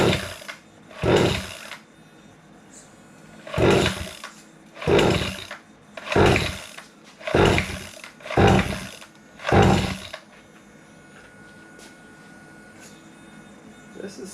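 Two-stroke engine that sat unused for over two years, cranked repeatedly: about eight short, loud sputtering bursts spaced a second or two apart, then quiet at the end.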